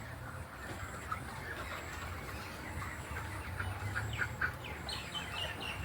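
Chickens in a poultry house or farm yard, giving scattered clucks and chirps over a dense, steady background of many birds; the sound is moderately loud and continuous, with no voices.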